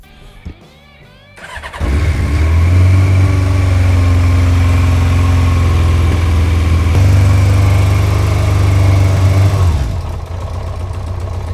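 Used motorcycle with a cleaned tank, new fuel filter, oil and air filter cranks briefly, fires up and settles into a loud, steady close idle for several seconds before easing off.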